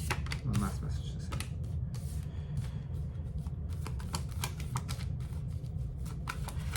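Tarot cards being shuffled during a reading, a soft, steady run of quick riffling clicks over a low background murmur, fairly close.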